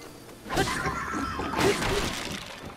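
A wooden door smashes apart in the game Zelda: Breath of the Wild, giving two quick crunching, splintering breaks about a second apart, fairly loud with a scattering debris tail.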